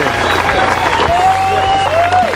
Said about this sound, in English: You know why they're clapping?